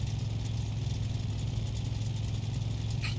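A car engine idles steadily in the video game My Garage, an oversized engine fitted in a too-small bay, producing a constant low hum with a faint high chirp near the end.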